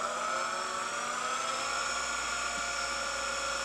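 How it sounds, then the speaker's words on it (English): The gear set of the combat robot Stink Eye runs after a match, producing a steady, close, high-pitched whirring whine with layered gear tones and no break. "You can hear the whole gear set making noise."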